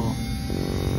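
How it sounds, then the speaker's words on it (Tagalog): A small electric fan fitted to an electric eraser whirs with a steady, close motor hum, constant and unbroken over the brief moment. "Electric eraser at saka electric fan. Ganyan siya kalakas."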